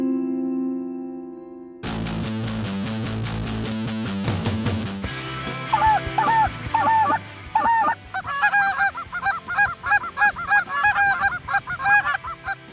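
Wild geese honking during a cast-and-blast hunt over decoys at Klamath: a dense, loud chorus of honks that falls into a rhythmic run of separate calls, with an electronic, echoing, processed edge throughout.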